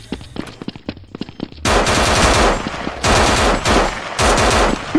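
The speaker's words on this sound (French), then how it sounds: "Ça me tire dessus, Alain." Automatic gunfire in Garry's Mod DarkRP: a few scattered shots at first, then a loud, sustained stream of rapid machine-gun bursts running to the end.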